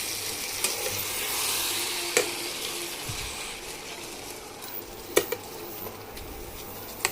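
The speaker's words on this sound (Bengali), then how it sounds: "এবার আমি দিয়ে দেবো এই ম্যারিনেট করা চিকেনটা" Marinated chicken sizzles steadily in a hot pan for burnt-mango chicken while a utensil stirs it, with a few sharp scrapes and clinks against the pan, close and continuous.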